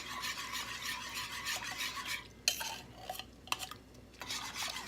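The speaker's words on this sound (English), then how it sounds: "we're just gonna mix it completely so it incorporates completely with the milks" A spoon or whisk stirs condensed milk into milk in a pot for strawberry atole, giving a continuous scraping, swishing rub against the metal with a few brief clinks and pauses, close and quiet.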